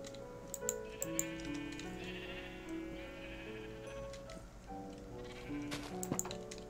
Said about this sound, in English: my sheep had presumably wandered through the spiky bushes